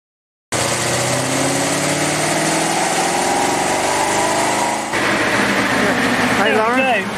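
A Rover SD1 4.3-litre engine fitted with TVR parts, running hard on a rolling road dyno with a steady loud roar and rising note, then easing off; a voice is heard under the engine near the end.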